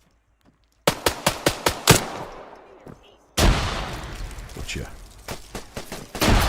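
Gunfire in the video game Arma 3 during a zombie apocalypse battle in Chernarus: a rapid string of sharp, loud shots followed by a heavy blast and sustained rumbling fire, with a brief spoken word.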